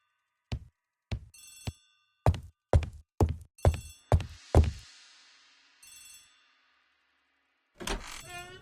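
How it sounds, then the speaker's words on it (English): An old telephone bell rings in a hall, with a series of sharp, loud bursts at uneven intervals, the last ones ringing out and fading. A faint later ring follows, then a clatter as the receiver is picked up. "The telephone in the hall is ringing."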